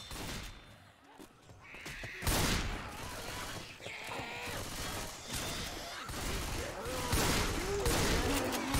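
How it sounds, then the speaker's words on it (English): Shotgun blasts in a multiplayer shooter game land as a few loud, sharp booms amid a dense, busy mix of other gunfire and game noise. "I'll try this shotgun."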